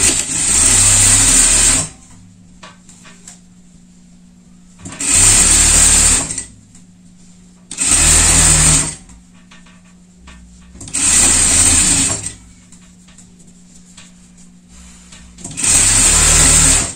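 Sewing machine running a safety seam on a sporty pet jacket, in five loud bursts of about two seconds each, separated by quiet pauses with a low hum.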